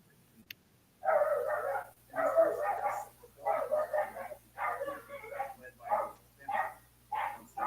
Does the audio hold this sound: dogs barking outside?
yes